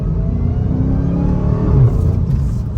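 A 2021 Dodge Charger SRT Hellcat Redeye engine pulls under light throttle, giving a loud, steady, deep rumble with a rising whir, close and continuous, with no talking over it.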